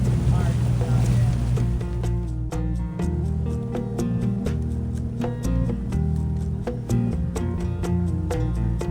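Motorboat engines drone steadily nearby near Cabbage Key and Cayo Costa, Florida, a low humming throb punctuated by sharp clicks and knocks, with voices faintly underneath.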